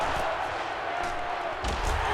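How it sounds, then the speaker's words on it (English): A video-game stadium crowd in NCAA Football 13 roars as a constant wash of noise, with a few sharp louder swells rising above the steady din. "The crowd is really letting them hear it."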